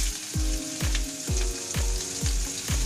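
Garlic and onion sizzle in a fairly deep pan for pork humba, a steady crackling fry punctuated by regular rhythmic scraping strokes from stirring, with no voice over it.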